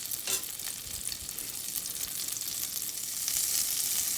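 About two tablespoons of butter melting in a hot pan on the range, a steady close hiss and fine crackle that swells slightly toward the end, no talk.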